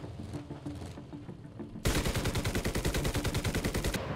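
Machine gun fire in the video game War Thunder: quieter shots at first, then a sudden, sustained, rapid burst of gunfire that rattles steadily for the rest of the clip.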